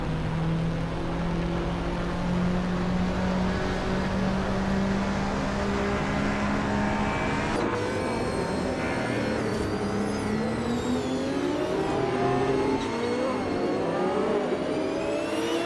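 Several race car engines whine and rev at once, climbing and falling in pitch as the cars run side by side into a corner, loud and steady throughout with no talk.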